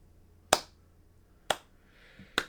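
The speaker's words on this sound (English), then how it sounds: "I can give you a slow clap for that." Three sharp, evenly spaced claps about a second apart form a deliberate slow clap, crisp and close in an otherwise quiet room with no talking.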